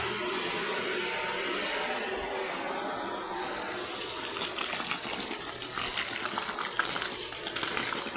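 Pool vacuum sucking water during pool filter cleaning at a resort, a steady loud rushing hiss and gush of flowing water that grows slightly rougher and more turbulent toward the end, with no speech.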